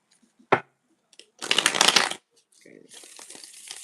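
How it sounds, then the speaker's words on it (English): Tarot cards being shuffled by hand: a sharp tap, then a riffling rush of cards, followed by softer sliding and shuffling, close and clear. "Shuffling for Brittany."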